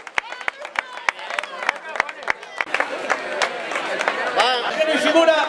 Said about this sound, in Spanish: Un fuerte aplauso para estos comarcales.